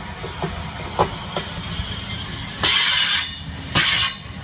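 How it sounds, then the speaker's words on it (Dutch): A double-decker train passes loudly along a railway line in Soest, a steady rumbling roar with hiss and rhythmic clacking bursts, swelling sharply near the end, with no talking. "Met filmpjes laten ze zien dat de trein te veel lawaai maakt."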